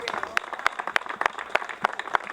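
An audience at a Black and Brown unity rally claps in a loose, evenly spaced rhythm, each sharp clap standing out over a thin background wash of other hands.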